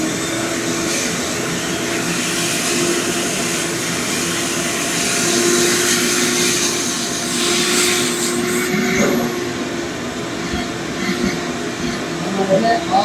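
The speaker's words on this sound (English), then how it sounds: "I'll take the vacuum." A vacuum cleaner roars steadily while it cleans wood fibers off the felt cloth on a pool table rail after rubber replacement, a loud, close, continuous whine with slight shifts in pitch as it moves along.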